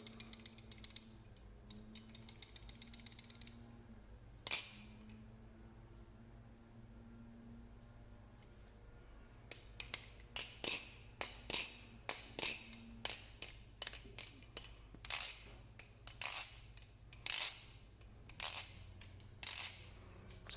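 A JK Designs Orca clone balisong butterfly knife clicks and clacks close by as it is flipped, first in a quick run of ticks, then after a quiet gap in a long irregular series of sharp metallic snaps.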